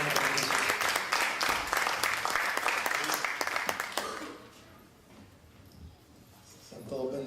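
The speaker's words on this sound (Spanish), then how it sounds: "Fuerte el aplauso al Señor por la vida de él." Church congregation applauds loudly with dense, rapid clapping for about four seconds, then the noise fades to a quieter room murmur before a brief swell of sound at the end.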